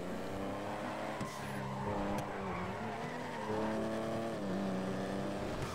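A car in GTA V Online driving hard, its engine droning and shifting pitch while tires squeal and skid, with steady loud game engine noise and no pauses.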